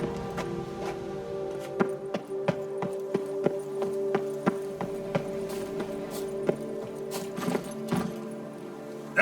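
Roach, a horse in The Witcher 3, trots along with steady, evenly spaced hoof clip-clops held over a sustained low drone of game music.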